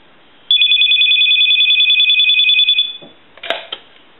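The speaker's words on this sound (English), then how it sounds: "I want to go ahead and ring the telephone." Landline telephone bell on a Radio Shack Continental 43-330 rings in one sustained, loud electronic trill lasting over two seconds, then cuts off, followed by a few brief handling clicks and knocks.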